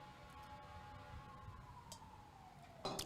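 Police sirens wail faintly from the street of a downtown area, heard through an open window, one steady tone sliding slowly downward over low traffic-like background noise.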